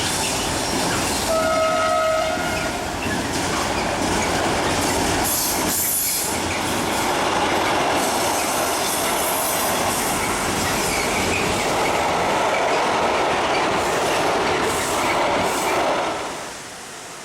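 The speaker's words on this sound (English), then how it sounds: "Another view in the opposite direction, as this train comes out of Kert Tunnel" A train emerges from the Kert Tunnel on a covered loop, rumbling loudly and steadily with wheel squeal and a brief horn early on, then fading toward the end.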